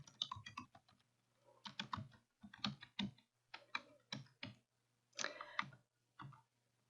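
Computer keyboard typing in bursts of rapid clicks, quiet and close, with short pauses between runs of keystrokes over a faint steady hum.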